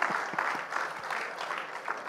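Film-club audience applauding an actor after a screening, a brief, lively patter of many hands clapping at moderate distance, even and unbroken, with faint murmuring beneath.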